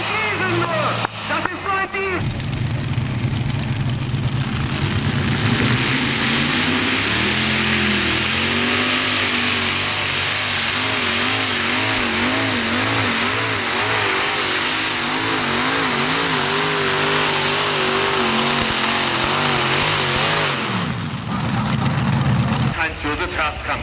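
Diesel pulling tractor at a tractor pulling event, a loud roaring engine revving hard and climbing in pitch for a sustained run of about twenty seconds, with crowd and announcer voices buried underneath.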